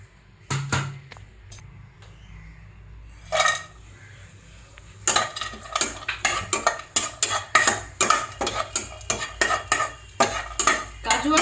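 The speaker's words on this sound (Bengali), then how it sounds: "এবার ওই তেলের মধ্যেই আমি একে একে কাজু আর কিশমিশ দিয়ে দেব।" Cashews and raisins dropped one by one into hot oil for fried rice, with scattered clinks of a spoon against the pan, then a dense run of repeated stirring and scraping scratches over a quiet sizzle.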